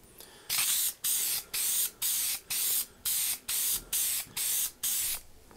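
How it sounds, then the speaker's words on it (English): Lacquer sprayed from an aerosol can onto a stompbox enclosure in about ten quick, evenly spaced hissing bursts, each roughly a third of a second long with short pauses between, close and clear with no talking. "So we're just going to hit this with a couple quick coats of lacquer"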